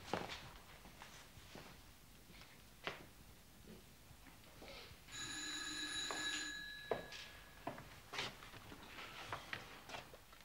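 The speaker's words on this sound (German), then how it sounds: "Derek, Harry ist am Telefon." An old-style telephone rings once with a bright electric bell tone, mid-distance in a quiet room, amid scattered soft knocks and footsteps.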